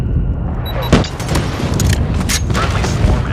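Airstrike explosions in Call of Duty multiplayer rumble as a dense, loud barrage of booms and blasts, with a sharp hit near the start and layered game sounds throughout.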